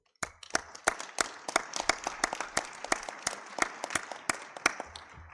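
Audience at an international environmental conference session applauds with a fairly sparse ripple of individual claps, some sharp and prominent, building quickly then continuing at a steady moderate level.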